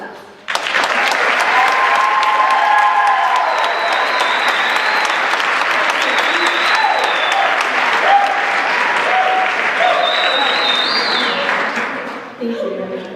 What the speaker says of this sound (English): give the class of 2014 a round of applause